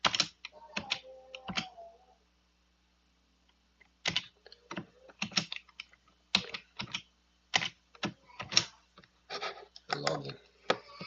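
Login credentials typed on a computer keyboard, brisk clusters of sharp key clicks in several bursts separated by a pause of about two seconds, close and clear with a voice talking faintly at times.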